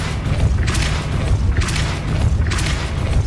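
A Depulso spell in Hogwarts Legacy hits an object, producing three deep, booming thuds about a second apart over a dense rumbling game backdrop, loud and close.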